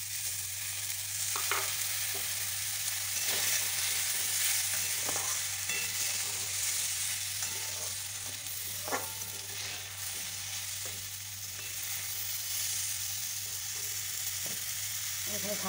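Sugar being stirred into a simmering olive and chalta chutney gives a steady sizzle with repeated scraping strokes of a spoon against the pan, close and continuous.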